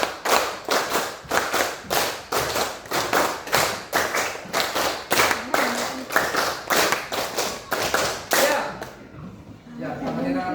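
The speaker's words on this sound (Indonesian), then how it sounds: "Kita sama-sama tepuk 5 kali." A group claps in unison over and over, counted claps sharp and evenly spaced, closing in a roughly steady rhythm, with a voice speaking briefly once the claps stop.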